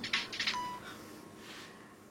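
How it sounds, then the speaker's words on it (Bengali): A telephone call coming in at night: a few short electronic tones and beeps chirp close by in quick succession, then fade into quiet background hiss. "এত রাইতে আবার কে ফোন করছে"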